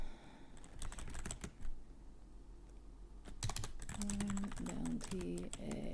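Rapid bursts of clicky mechanical keyboard typing sit close and soft during an ASMR story-writing session, with short pauses between runs and quiet soft-spoken voice at times.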